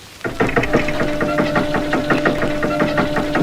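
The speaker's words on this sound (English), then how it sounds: "when we at last had made it fast, and Martin started the engine." An engine catches and runs at a steady fast knocking rhythm of even mechanical beats with a constant hum, loud and close from start to finish.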